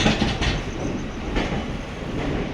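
A passenger train rumbles past at close range in Mysuru, a steady broadband roar with faint rhythmic clatter from the wheels, continuous throughout and with no voices.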